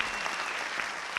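A crowd applauding at an anti-Iraq-war rally in the UK, a steady wash of distant clapping heard faintly for a brief moment.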